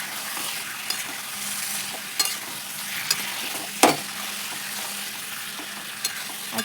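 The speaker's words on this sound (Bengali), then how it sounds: "এবার আমি মাংসটা দিয়ে দিলাম। মাংসটা দিয়েও আমি ভালো করে কষিয়ে নেব।" Chicken pieces fry in a pan for a thin chicken curry, a steady low sizzle running throughout, broken by several sharp scrapes and knocks as the meat is stirred, the loudest about midway.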